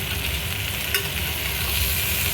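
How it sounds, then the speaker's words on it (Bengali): Pointed gourd (potol) frying in a pan for a Bengali pumpkin dish, giving a steady, soft sizzle with light stirring, close and alone. "পটলটা দিয়ে আরও খানিকক্ষণ ভাজবো আমি"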